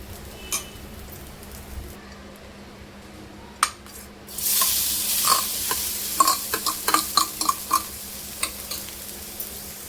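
Ghee heats in a kadhai for modak filling, first with a few isolated clinks, then a bright steady sizzle rising midway, with repeated sharp spoon-against-metal taps as it is stirred.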